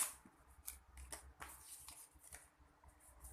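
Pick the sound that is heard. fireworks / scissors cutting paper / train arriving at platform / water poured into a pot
scissors cutting paper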